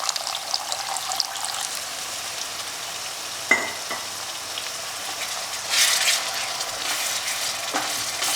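Water poured into a pan of sizzling mutton curry masala, a steady frying hiss with a sharp clink and a brief rush of liquid midway, close and without talk.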